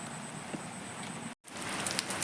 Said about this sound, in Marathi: आज पाऊस पडलो आमच्याकडे